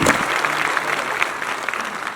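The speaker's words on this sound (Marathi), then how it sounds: "एकदा जोरदार टाळ्या सर्वांसाठी" An audience at an official appointment ceremony for newly recruited staff bursts into loud, dense applause, a continuous clatter of many hands clapping close by that tapers slightly toward the end.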